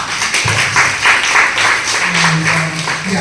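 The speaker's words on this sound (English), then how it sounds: "So give a round of applause for all of yourself." A college audience at IIT Madras breaks into loud, sustained applause, a dense wash of clapping that fills the room with little variation.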